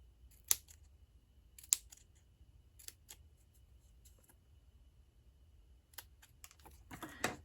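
Scissors snip paper for a handmade snowflake card in a few quiet, sharp cuts with pauses between them, close and faint against a low room hush, ending in a brief rustle.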